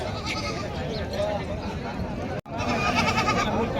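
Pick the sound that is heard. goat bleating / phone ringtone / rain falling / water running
goat bleating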